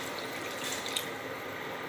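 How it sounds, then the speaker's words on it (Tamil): Steady water pouring close by into a cooking pot, a continuous splashing hiss with no voices. "ரெண்டு பெரிய கிளாஸில் தண்ணி ஊற்றிக்கலாம்"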